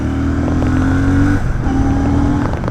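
A Royal Enfield Shotgun 650 motorcycle engine hums loudly and steadily while being ridden in third gear around 4000 rpm, with a brief dip in pitch midway before the drone resumes.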